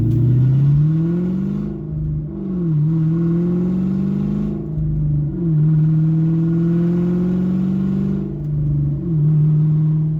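A loud Mustang engine with an H-pipe exhaust revs repeatedly, rising and falling in long surges with a buzzy exhaust drone, heard close up.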